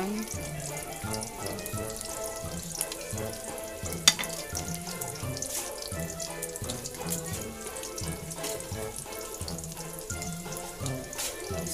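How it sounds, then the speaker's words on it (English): Tiny dried anchovies (dilis) fry in hot oil with a steady, bright crackling sizzle, broken by occasional sharper pops. The sizzling is close and continuous. "So, we're gonna fry it until it's gonna be crispy."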